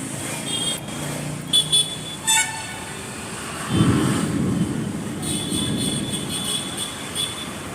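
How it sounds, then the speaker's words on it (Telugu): An auto rickshaw passing on a road after rain, rising to a rumbling roar near the middle and fading away, with short tooting horn-like sounds in the background before it arrives. "చూసారా ఆటో వెళ్తుంది"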